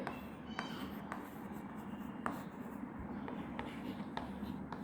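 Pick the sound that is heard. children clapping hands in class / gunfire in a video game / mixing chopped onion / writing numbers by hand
writing numbers by hand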